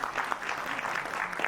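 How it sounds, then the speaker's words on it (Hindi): An award ceremony audience at the Bharat Pratibha Samman 2025 claps briefly, a fairly faint, even patter of many hands heard from a distance for about a second and a half. "जोरदार तालियां बजा दीजिए सभी।"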